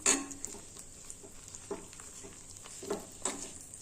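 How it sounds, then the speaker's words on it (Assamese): Thick rice pitha dough being stirred in a pot on the stove, with soft scraping strokes and faint sizzling at a few irregular moments, close and fairly quiet, no talking. "তথাপিতো এয়া মই লৰাই আছোঁ"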